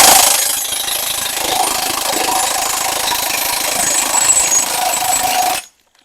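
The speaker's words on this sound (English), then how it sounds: "It's just a big torque wrench." A big power torque wrench tightening railroad track bolts, a loud, continuous rattling hammer-like drone held for about five and a half seconds at close range before cutting off abruptly, with no talking.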